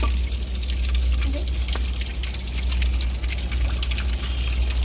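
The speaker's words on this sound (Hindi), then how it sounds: "यहाँ पर है नल, भर के रख देती हूँ" Tap water running into a container at home in India, a steady splashing pour with a low hum beneath, while someone talks over it.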